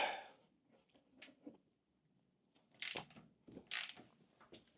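A hand ratchet clicks in short bursts while cracking off bolts on a Triumph Tiger 1050 motorcycle, with quiet gaps between the sharper ratcheting sounds, close up and no voices.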